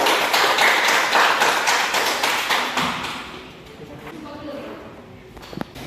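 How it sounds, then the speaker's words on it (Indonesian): A classroom of schoolchildren applauding a student group after a presentation, a dense burst of many hands clapping that is loud at first and gradually thins out and fades over several seconds. "beri aplaus untuk kelompok"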